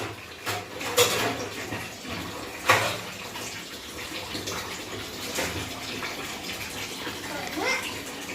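Running water washes over something in a household sink or tub with a steady faint rush, broken by a few clinks and splashes.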